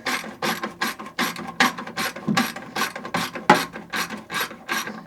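A hand ratchet loosens the front bumper bolts on a Citroen 2CV. About a dozen quick, evenly spaced clicking strokes sound up close, with no voices.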